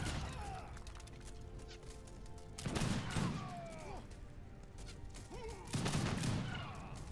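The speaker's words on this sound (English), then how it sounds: "One hit from a demi cannon does so much damage." Demi cannon fire hitting the Grand Palace wonder in a real-time strategy game battle, with two loud booming impacts a few seconds apart over a constant din of game battle noise and birdlike chirps.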